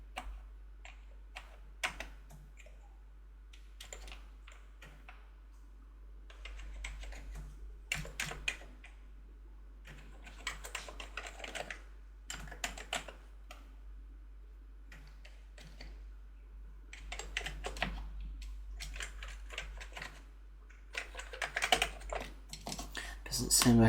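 Keys on an Amiga computer keyboard are pressed in scattered bursts of clacking taps with quiet gaps between them, close up, while someone talks at times.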